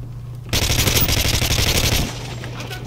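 Call of Duty MW3 gunfire: a loud, sustained burst of rapid automatic shots lasting about a second and a half, then fading into quieter background game noise.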